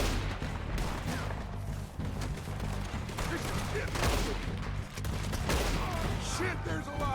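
Gunfire in a Red Dead Redemption 2 shootout, rapid overlapping shots in bursts over game sound and music, loud and continuous throughout.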